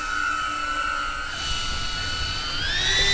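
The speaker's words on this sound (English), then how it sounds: "This drone is very loud and intimidating when you hear it." A loud camera drone flies overhead, its steady high-pitched whine of spinning rotors rising in pitch toward the end with no one speaking.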